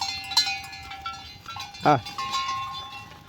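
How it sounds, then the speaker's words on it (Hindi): Goats on a Chhattisgarh village farm, with one short close bleat standing out among faint cowbell-like clinks and other soft farmyard noise, and someone talking nearby. "ये सब बकरी मन के अलग अलग नाम है।"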